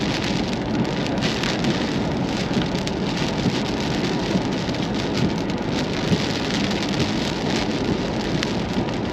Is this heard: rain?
yes